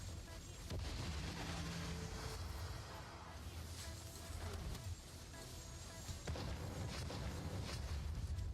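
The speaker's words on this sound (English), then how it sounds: "Prismatic cannon online." Heavy, booming cannon fire from the Prismatic Cannon in Soulstone Survivors, with repeated blasts over dense, continuous combat noise.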